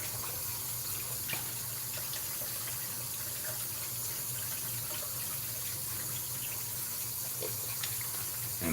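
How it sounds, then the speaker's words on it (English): Tap water runs in a steady, close stream into a sink for a quick rinse of a shaving razor, with faint clinks and splashes under the flow. "So just a really quick rinse."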